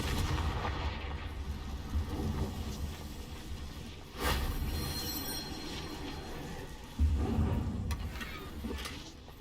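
Confringo fire spell blasts from Hogwarts Legacy, booming explosive bursts over a rumbling mechanical game background, with two sharp loud impacts standing out against a continuous low din.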